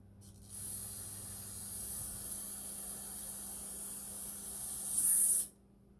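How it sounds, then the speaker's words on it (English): Carb cleaner sprays through the jets of a 717 carburetor being rebuilt, a steady, close, loud hiss lasting about five seconds that swells briefly before cutting off, with no talk over it. "And I'm going to spray some carb clean through them."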